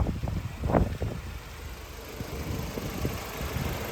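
A 1997 Mercedes E220 W124 Cabriolet engine idles with a low, steady rumble, a brief louder surge near the start, then an even hum.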